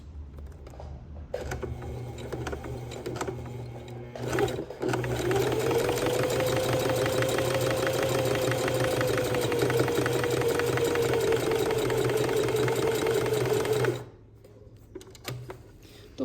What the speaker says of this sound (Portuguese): Agora eu vou passar um pesponto aqui